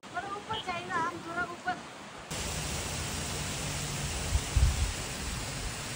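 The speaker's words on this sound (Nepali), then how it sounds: "केरुङको झरनामा छौं." A voice speaks briefly, then the Kerung waterfall's constant broadband roar takes over, a dense, unbroken rush of falling water swelling slightly toward the end.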